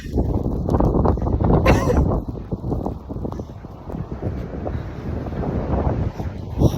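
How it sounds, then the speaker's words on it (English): Strong blizzard wind in the Midwest buffeting the microphone in loud, rough, continuous gusts that swell and ease, with people's voices partly lost under the roar. "Can we say holy wind or what?"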